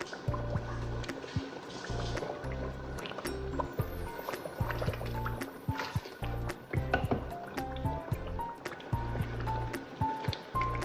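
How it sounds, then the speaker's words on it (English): Boiled tomato paste poured into a Nigerian chicken stew, giving wet squishing and liquid filling sounds at close range. Steady cooking noise, small drips and faint clinks run underneath, and no one speaks. "we're going to add our tomato base, our tomato paste that I boiled earlier"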